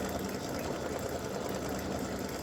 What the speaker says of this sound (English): Now it's going to go up to the top and actually stitch the design.